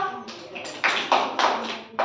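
Children clap their hands during a classroom activity, producing a few irregular bursts of claps close by, mixed with voices in the room.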